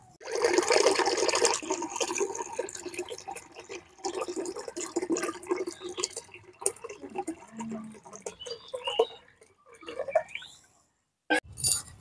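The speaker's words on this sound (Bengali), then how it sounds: "এখন আমি শরবতটা গুলে নিচ্ছি।" Mashed ripe bael fruit stirred into water and milk for sherbet, with sloshing, swirling liquid and soft splashes near the bowl, the sound fading at times and ending with a few clinks.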